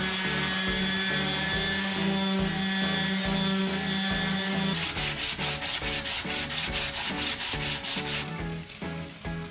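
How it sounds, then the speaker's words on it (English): Steady abrasive rubbing of sandpaper against acrylic, close and loud, turning into rapid rhythmic back-and-forth strokes partway through. "Sanding down to 400 grit and a quick buff brings back the gloss."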